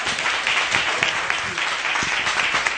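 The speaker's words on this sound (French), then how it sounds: "On va applaudir quand même Jean-Pierre." An audience applauds in honour of an audiovisual artist, a steady, dense rush of clapping that holds at a constant level throughout.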